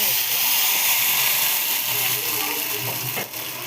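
Water poured into hot oil tempered with curry leaves and dried red chillies for lemon kuzhambu bursts into a loud, continuous, close sizzling hiss that slowly eases.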